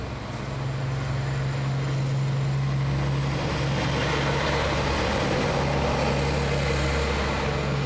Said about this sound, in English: Car drives by.